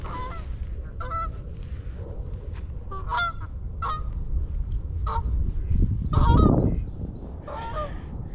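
A flock of geese honks repeatedly at an irregular pace over steady outdoor rumble on a lake peninsula, some calls nearer and louder, others distant.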